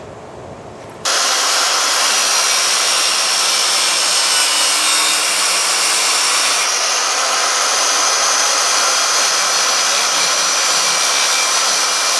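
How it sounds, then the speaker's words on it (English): Circular saw cutting through a wooden door frame while installing French doors: a loud, steady broadband whine that starts abruptly after a second and runs continuously, close up, with no talk. "then we'll just take a skill saw and just run up this thing"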